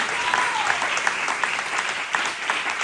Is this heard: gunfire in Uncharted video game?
no